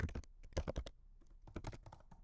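Typing on a computer keyboard, two quick flurries of close, crisp key clicks separated by a short pause, quiet and with no voices.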